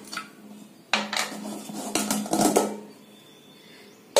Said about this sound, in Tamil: குக்கர் ரெண்டு சவுண்ட் வந்து ஆஃப் பண்ணியிருக்கறங்க இப்ப திறந்து பார்க்கலாங்க